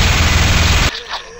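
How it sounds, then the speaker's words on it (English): Minigun in the video game Zombocalypse firing a dense, loud, rapid rattle of shots that cuts off abruptly about a second in, followed by a short quieter tail. "Minigun. Minigun."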